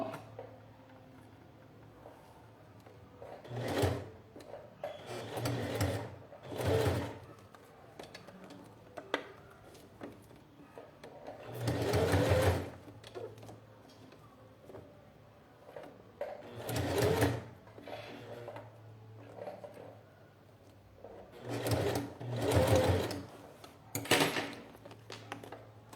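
Sewing machine stitching a clear plastic and fabric zip pouch made from scraps, in short bursts of rapid needle chatter separated by quiet pauses while the work is repositioned.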